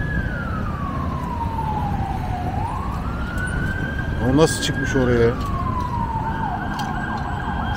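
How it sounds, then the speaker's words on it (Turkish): A wailing emergency siren from ambulances at a car crash scene, sweeping up and down steadily with a brief burst of faster yelp, heard at moderate distance over road noise while a person speaks nearby. "Samsun anlık. Ambulanslar falan."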